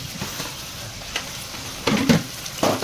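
Fish masala frying in hot oil in a pan, a soft steady sizzle broken by stirring scrapes and two louder bursts of crackle toward the end.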